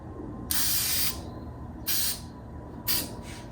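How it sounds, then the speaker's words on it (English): Three short bursts of spray adhesive hiss from an aerosol can, each about half a second to a second long, separated by brief pauses over a low room hum. "I don't think I have enough glue here, so I'm gonna spray more."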